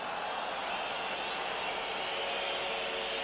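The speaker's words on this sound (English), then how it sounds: "Crowd making so much noise, they don't hear the referee's whistle a lot of the time" Football stadium crowd at a Feyenoord versus Tottenham Hotspur match, a distant, continuous roar of many voices at low level, steady and unbroken with no distinct cheers standing out.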